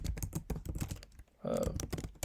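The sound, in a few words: typing code on a computer keyboard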